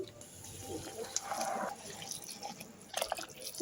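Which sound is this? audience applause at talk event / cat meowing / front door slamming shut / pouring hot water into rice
pouring hot water into rice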